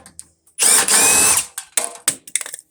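Screws being backed out with a ratcheting power driver while removing the transformer from a scrapped furnace: a long whirring run, then several short bursts of driving, close and loud.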